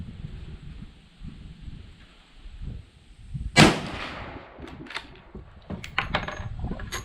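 A single sharp rifle shot from a Mossberg Patriot chambered in .350 Legend cracks loudly outdoors, followed by fainter clinks and handling noises.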